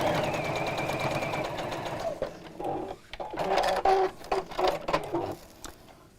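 A sewing machine stitches fabric pieces for a Maddy Caddy, whirring steadily and close at first. It then breaks into shorter, uneven bursts with brief pauses.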